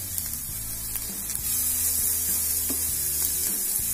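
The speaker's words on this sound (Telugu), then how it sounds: "ఇది చూసారు కదా బాగా ఫ్రై చేసుకోవాలి" Onions and carrots sizzle steadily as they fry in a pan, producing a close, continuous crackling hiss with faint stirring knocks.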